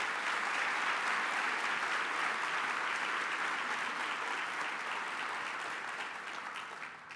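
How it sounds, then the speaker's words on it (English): Dense, sustained applause from a large luncheon audience for a lineup of speakers fills the space, holding steady before gradually fading toward the end. "give another round of applause for the powerful lineup of speakers"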